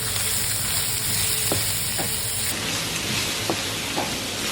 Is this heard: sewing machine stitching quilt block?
no